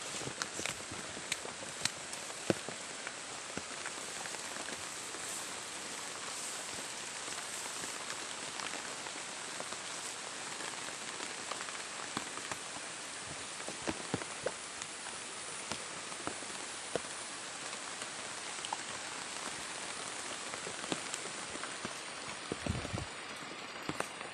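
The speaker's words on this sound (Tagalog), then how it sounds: "sana tuloy-tuloy na tong ulan na to" Steady, faint rainfall patters on surfaces, a continuous hiss with scattered drips and no voices, the whole stretch sounding even and distant.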